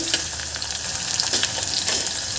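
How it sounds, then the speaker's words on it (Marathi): Sliced onions and green chillies sauté in a pan with a steady, close sizzle and occasional stirring scrapes, no voices over it. "आता हे कांदे आणि मिरच्या दोन मिनटं परतून घ्यायचं आहे"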